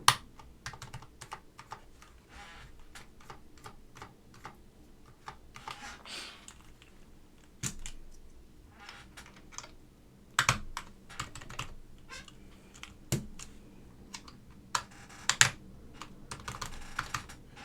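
Stabilized keycaps are pressed onto a mechanical keyboard kit, giving a series of quiet clicks and plastic snaps at irregular intervals, some sharper and louder than others, with no talking.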